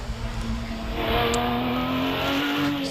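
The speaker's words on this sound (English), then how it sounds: "And these Cup Porsches were just about the fiercest model you could get that was road legal." A Porsche Cup car with a 3.6 litre rear-mounted engine races up a hillclimb course at Prescott, its engine howling loudly with a rising pitch as it passes close by.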